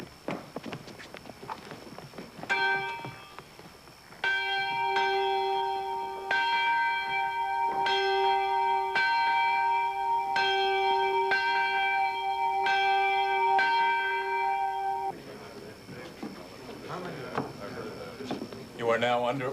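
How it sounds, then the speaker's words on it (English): A church bell tolls repeatedly to summon the militia, steady rich strokes ringing loud for several seconds, with voices before and after the ringing. "Toll the bell. Summon the militia."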